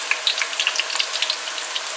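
Breadfruit slices frying in hot oil, a close, steady sizzle with scattered bright crackles and pops, heard on its own without any voices.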